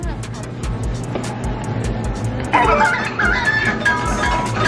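Electronic chicken arcade game at a Chuck E. Cheese, its clucking and crowing sound effects rising louder midway through amid noisy arcade din, beeps and children's chatter.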